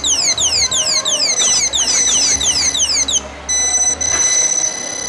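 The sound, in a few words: anti-theft alarm ringing on an unplugged display phone in a supermarket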